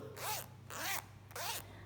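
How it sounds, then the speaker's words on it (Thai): Zipper on a Chanel zippy wallet sliding open and closed three times in smooth, even strokes, close and alone with no talking. "ใบเนี้ยเป็นใบที่ซิปลื่นที่สุด"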